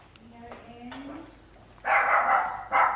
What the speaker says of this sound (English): here's the noisiest dogs in the neighborhood